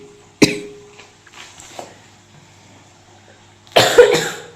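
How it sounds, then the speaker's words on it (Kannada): A person coughs loudly indoors: one sharp cough, a few faint throat sounds, then a louder double burst of coughing near the end. "ಕೆಮ್ಮು ಜೋರಾಗಿ ಯಾವಾಗಲೂ ವಿಡಿಯೋ ಮಾಡ್ಬೇಕಾದ್ರೆ ಕೆಮ್ಮು ಬರ್ತದೆ ಒಳಗೆ."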